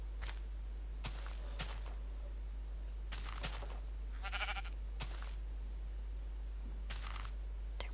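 Faint sheep bleats, a short nasal one near the middle, over a quiet outdoor hum with several soft scattered taps and footsteps; no voices.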